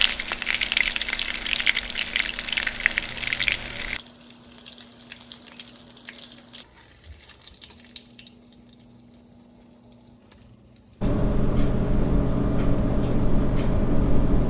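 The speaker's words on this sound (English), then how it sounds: "So we're just gonna let them deep fry for a few minutes until they're nice and golden brown." Black and yellow morel mushrooms deep fry in hot oil, a dense bubbling sizzle that is loud at first, drops quieter for several seconds, then surges back strong and continuous.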